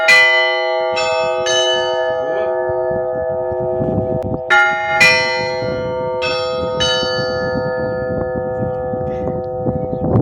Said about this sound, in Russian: Какой звон красивый, звонкий.